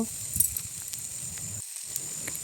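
Potatoes, eggplant and pumpkin greens fry in oil in a pan with a steady, bright sizzling hiss and scattered small crackles and pops, close and continuous with no talking.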